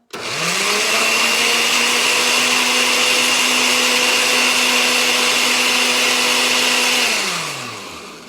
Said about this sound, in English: we're going to give it a quick blend. Put it on high.